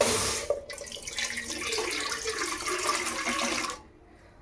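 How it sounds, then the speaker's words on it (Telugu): Milk streams from a pouring vessel into a large glass in a kitchen, a steady close splashing gurgle lasting about three seconds before stopping. "పెద్ద గ్లాసు పాలు పోస్తున్నాను."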